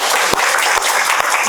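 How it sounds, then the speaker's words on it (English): A classroom audience gives brisk, continuous applause after a student's presentation, with a few sharper claps standing out from the steady patter. "give applause to Raisa"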